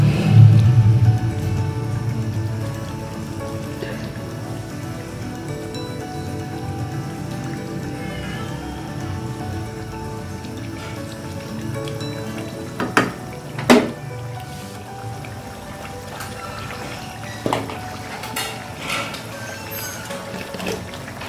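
Fish dipped into masala and frying over a high flame for a dhaba-style fish curry, giving a steady crackling sizzle throughout with a few sharper pops and stirring knocks near the middle and end.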